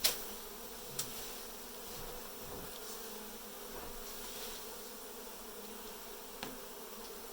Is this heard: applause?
no